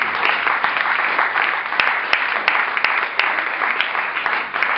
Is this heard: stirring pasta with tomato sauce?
no